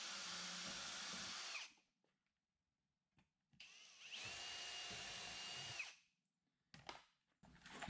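A power drill drives screws into the aluminum of an RV side access door in two sustained whirring bursts, followed by a few short clicks and a brief final burst.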